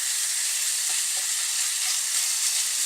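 Egg roll in a bowl mashed down in a pan on a van stove, frying with a steady loud sizzle and a couple of faint scraping knocks, no talk.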